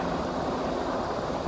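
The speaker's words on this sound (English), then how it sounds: "This is a jet plane." A firefighting jet plane flies over a wildfire near Salmon, Idaho, a steady loud engine roar close overhead with no talking.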